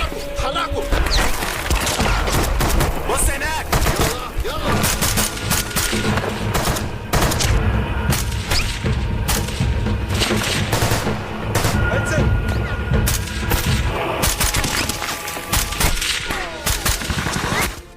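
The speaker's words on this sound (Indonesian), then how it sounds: "terjadilah baku tembak yang cukup sengit" Intense gunfight in a sniper action film, with dense machine-gun bursts, single gunshots and crashing impacts firing almost nonstop, loud and close, under a steady battle din.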